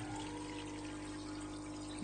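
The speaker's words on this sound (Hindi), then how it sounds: "सम्प में जितना भी पानी आ रहा है वो सारा इस पाइप की वजह से ही आ रहा है" Water flowing through a pipe into an internal aquarium sump filter, a steady, close, continuous rushing pour with no pauses or speech.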